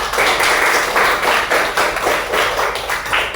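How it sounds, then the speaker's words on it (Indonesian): A group claps together in loud, rapid applause, the clapping swelling and easing in waves throughout with no talking. "beri tepuk tangan untuk Bella."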